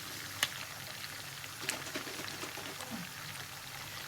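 Thick tomato passata pouring into a pan of spaghetti in a home kitchen, a soft steady wet pouring and splattering with a couple of sharp clicks, no talking.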